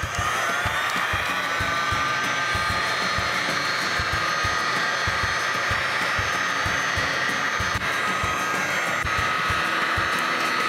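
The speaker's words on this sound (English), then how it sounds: "if it doesn't want to come right off, a heat gun is your best friend" A heat gun blows steadily and loudly against the sides of a storage box on a Coleman pop up camper, keeping a constant airy whine for the whole stretch, with faint rhythmic ticking underneath.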